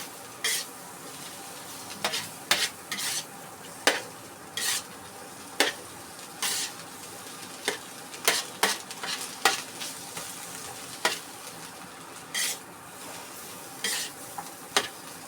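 Bitter gourd and egg are stirred in a wide flat grill pan, with a soft steady sizzle under repeated sharp metal scrapes and clinks of the spatula at an irregular rhythm.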